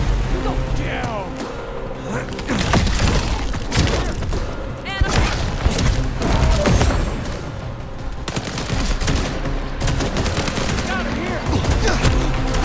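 Gunfire in the game Vampire: The Masquerade – Bloodlines 2, repeated loud shots and thumping impacts scattered across a chaotic combat mix, close and heavy throughout.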